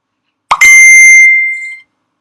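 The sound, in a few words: Qtor message arrival notification tone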